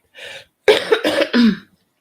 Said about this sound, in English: excuse me if I sniffle, if I cough